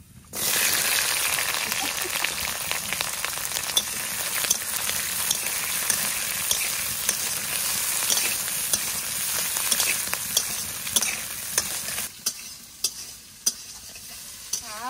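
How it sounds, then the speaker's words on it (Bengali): Nigella seeds and green chillies hit hot oil in a loud, continuous sizzle for a hilsa curry, crackling steadily close up, then dropping away near the end to a few sharp spatters and clinks. "ফোড়নে দেবো কালো জিরে আর কাঁচা লঙ্কা"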